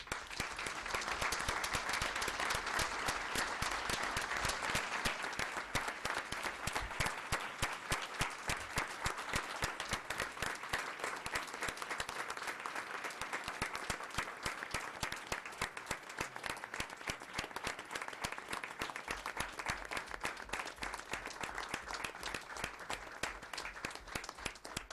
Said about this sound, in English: we might give them a round of applause